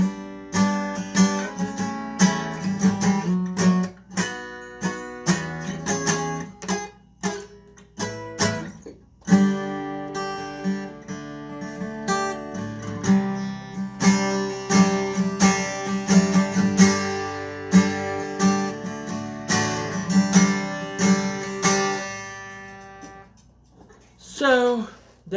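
Takamine acoustic guitar played close up, strummed chords and picked notes ringing in a continuous flowing passage with rhythmic accents, loud and alone without talking.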